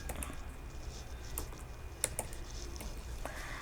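Quiet, steady typing on a computer keyboard while writing React code, soft rapid key taps with a couple of sharper clicks, close and faint, no voices.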